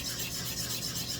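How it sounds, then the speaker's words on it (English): Small wooden parts for a tiny gnome are sanded by hand against a sheet of sandpaper on a board, producing a steady, close, continuous abrasive rubbing rasp with no talk. "So you want to be able to sand them all by hand."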